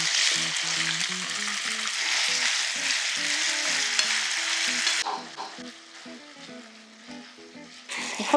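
Chicken breasts sizzle and fry loudly in olive oil in a pan, a steady hiss with stirring, easing to a quieter crackle near the end.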